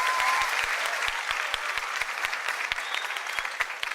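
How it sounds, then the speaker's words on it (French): Steady applause from a large audience at a televised talent show after a performance, a dense continuous wash of clapping with some louder individual claps standing out, heard alone without talk. "Aboubacar Keïta, merci de l'applaudir encore, s'il vous plaît."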